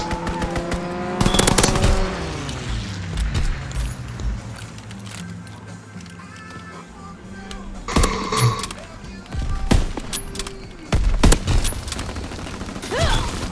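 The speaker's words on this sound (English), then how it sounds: "Call for a strafing run." A strafing-run airstrike in Call of Duty: WWII, with bursts of rapid machine-gun fire and sharp cracks of gunfire spread over the scene, some loud and close and others more distant, mixed with engine and battle noise.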